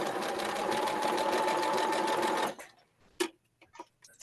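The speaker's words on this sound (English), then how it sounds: "sew groups of 2 together, because I'm chain stitching" Sewing machine running steadily while chain stitching quilt pieces together, a continuous loud whirring for about two and a half seconds, then stopping, followed by a few faint clicks and handling sounds.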